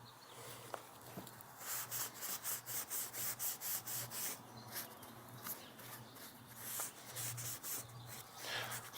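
Sandpaper rubbing on a vintage motorcycle tire, a rhythmic series of rasping strokes, close and fairly quiet, with a low steady hum behind.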